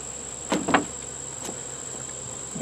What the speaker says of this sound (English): Now this one has a bunch of bees in it.